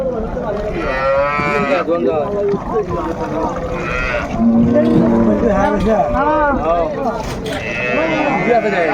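Dairy cows and calves moo loudly and repeatedly close by at Raniganj cattle market in Dinajpur, their calls overlapping with a busy crowd of voices in the background.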